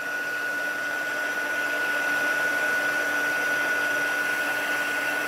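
Heat tool blowing hot air onto the back of a stamped card to melt embossing powder, a steady loud whooshing whine with a high tonal hum running unbroken throughout, no voices.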